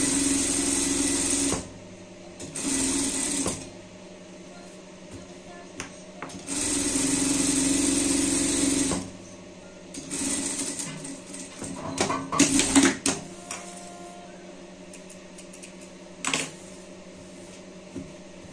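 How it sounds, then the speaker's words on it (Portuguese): A sewing machine runs a safety stitch in several bursts of rapid, loud whirring, separated by pauses with quieter handling noises and a few clicks. "A gente já passa uma costura de segurança"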